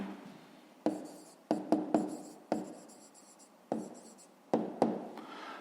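Pen writing numbers by hand on paper, a series of short scratchy strokes in irregular bursts, close and quiet with small pauses between marks.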